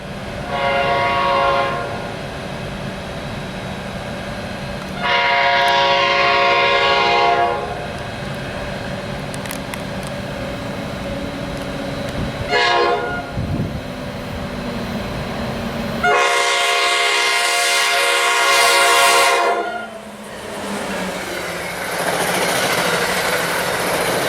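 A New Jersey Transit passenger train led by an Erie-Lackawanna heritage locomotive rumbles steadily past on the Northeast Corridor with several loud, repeated horn blasts, the engine noise rising and falling as it goes by.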